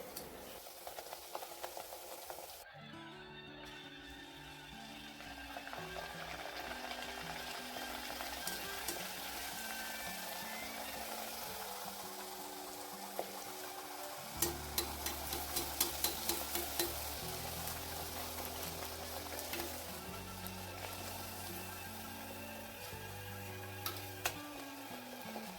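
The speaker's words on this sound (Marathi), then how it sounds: "बारीक गॅसवर छान लाल खरपूस होईपर्यंत तळून घ्यायच्या आहेत." Pumpkin and jaggery gharge puris frying in hot oil over a low flame, a steady soft sizzle with bubbling running throughout, punctuated by occasional faint clinks, with no talking.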